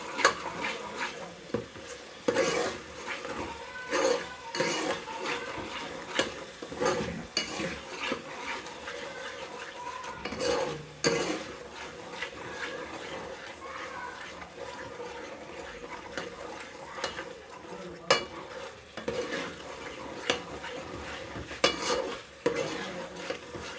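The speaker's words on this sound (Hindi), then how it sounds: "मसाले को अच्छी तरह भूनना है। जितना भूनेंगे आपकी हांडी उतने मज़े की बनेगी।" Masala for aloo matar fries in a pot while a spoon stirs it, giving a fairly quiet, ongoing sizzle broken by repeated scrapes and clinks of metal on the pot.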